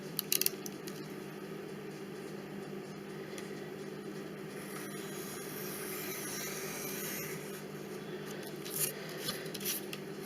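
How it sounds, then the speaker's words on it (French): Scissors cut through paper or card for an embellishment craft, a few quick snips near the start and more faint cutting strokes later, over a quiet steady background hum with no speech. "Donc là, je vais couper les 2"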